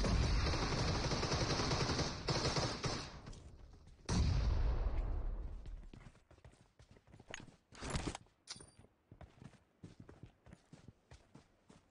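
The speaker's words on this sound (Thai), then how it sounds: "ระเบิด" Explosions and gunfire in a shooter video game: a loud sustained blast roars, then a second heavy boom, followed by sharp scattered shots and crackles, close and intense, with no speech.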